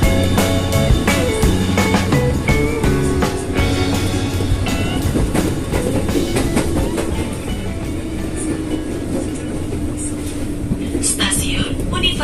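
The KA Pangrango train runs on rails between Bogor and Sukabumi, a loud continuous rumble with clacking wheel beats heard from on board, with faint voices underneath.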